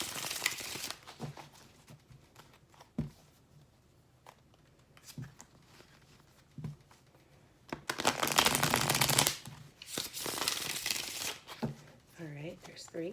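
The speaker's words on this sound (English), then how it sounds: "So, I'm going to give it 3 shuffles." Several bursts of tarot card shuffling, each a dense riffling rush lasting a second or two, separated by quieter stretches with a voice speaking softly.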